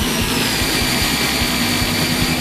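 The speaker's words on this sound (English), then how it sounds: "First up is a baseline dyno run with the Cobra's old oil" Ford Mustang Cobra V8 on a dyno during a baseline run on old oil, roaring loud and close with a dense, steady engine drone and rapid low pulsing.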